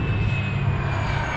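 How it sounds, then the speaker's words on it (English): Low-flying airplane passing overhead, a loud, steady engine drone with strong low rumble and broadband roar, heard alone and close throughout. "look at that plane."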